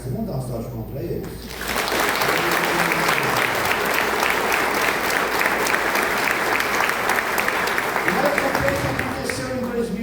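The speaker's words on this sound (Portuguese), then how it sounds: "Vamos dar uma salva de palmas para eles?" A church congregation at a couples' ministry event breaks into sustained, loud applause after a brief spoken introduction, with the clapping continuing steadily to the end.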